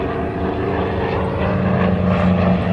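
A propeller airplane at an air show drones steadily overhead, its engine noise continuous and moderately loud with a slight swell, no talking over it.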